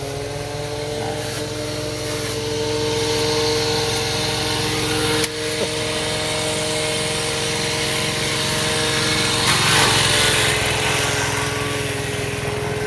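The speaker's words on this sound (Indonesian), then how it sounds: "Kalau kita pengen manen rumput pacong menggunakan mesin potong rumput" A small engine-powered grass cutter drones steadily and loudly nearby cutting Pakchong grass, with a brief knock midway and slight surges as it cuts.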